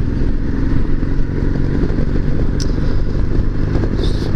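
Honda VTX motorcycle engine droning steadily at about 60 mph in fifth gear on the open road, a loud continuous rumble with wind noise and no pauses throughout.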